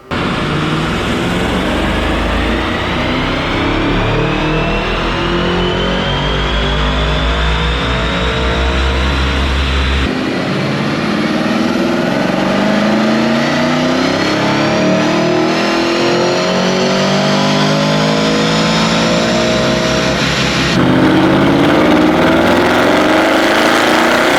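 An Audi RS6 Avant on Unitronic Stage 2 tune with 93 octane fuel, run hard on a dyno: loud, sustained engine revving that climbs steadily through the gears in long sweeping pulls, close and continuous with no talk.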